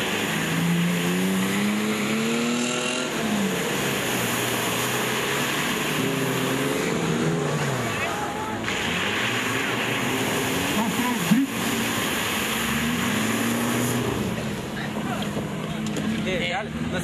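A Suzuki Jimny off-road race car brakes and accelerates, its engine note rising and falling in repeated swoops, loud and close, with a commentator talking over it throughout.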